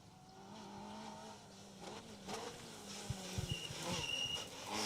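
BMW 325i rally car racing through an asphalt stage at the Manx Rally, a faint distant engine note building and rising with sharper bursts of revving and tire noise toward the end.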